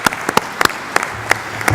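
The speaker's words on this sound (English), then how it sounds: "So please, let's give them applause." Sparse, scattered claps from delegates in a NATO Parliamentary Assembly plenary session, a handful of sharp individual hand claps spread irregularly across the moment rather than a full ovation.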